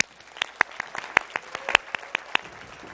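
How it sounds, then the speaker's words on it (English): Scattered applause at an awards show comes from only a few hands, with distinct separate claps in an irregular rhythm rather than a full roar, fairly close and moderately loud. "A round of applause again for Eileen Armis and Eric"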